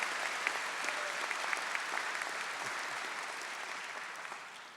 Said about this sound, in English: In addition to applause for that comment